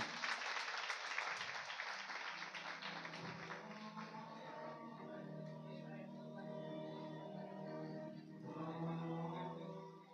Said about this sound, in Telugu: గట్టిగా చప్పట్లు కొట్టండి అమ్మా